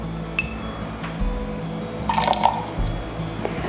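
Calcium water trickles briefly into a bowl of mashed fruit and lemon juice in a kitchen, with a soft pour and a light clink of a spoon or glass, close and quiet.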